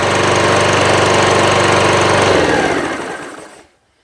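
A Hyundai petrol lawnmower engine runs loud and steady at full throttle close by, then spins down and cuts out, leaving near silence at the end.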